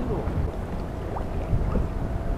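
Steady wind rumbles and roars across open water at Maryang harbor, whitecaps out front, a low blustery noise filling the clip with no clear voices.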